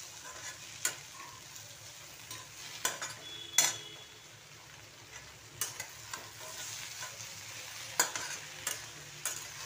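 Kashmiri chilli powder fries in hot oil for paneer bhaji, a faint steady sizzle under scattered sharp clicks and scrapes of a spoon stirring in the pan, close by with no voices.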